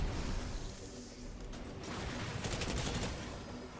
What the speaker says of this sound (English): Going in with the Tommy gun.